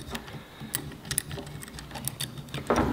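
A nut spins and rattles beneath the coping foot on a Dewalt jigsaw as it is unscrewed, a quiet, close run of irregular light ticks and clicks with a brief louder rustle at the end.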